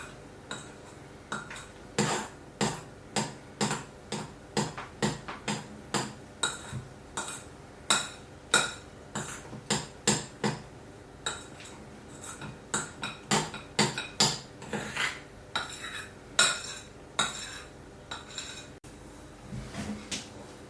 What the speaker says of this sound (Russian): Перемешиваем. Аккуратно, но тщательно.